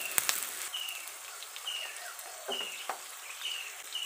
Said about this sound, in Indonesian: Bagi bawang tu garing sekejap.